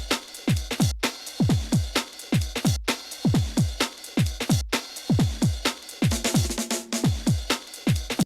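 A drum loop for a remake, layering breakbeat loops, a fill, and kick and snare together into a steady, punchy, loud pattern of repeated hits with no talking.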